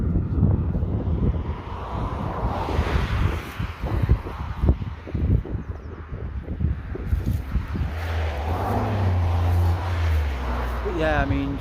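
Strong gusts of wind buffet the microphone on a public footpath walk, a loud continuous roar with low rumbling surges throughout and a brief whistling tone near the end.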